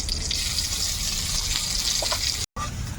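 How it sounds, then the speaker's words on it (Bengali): Chopped garlic and ginger hit hot oil in a kadai along with chilli while chicken biryani is being cooked, giving a loud, steady broadband sizzle that runs throughout, with a brief dropout near the end. "এবার দিয়ে দেব কুচিয়ে রাখা রসুন আদা।"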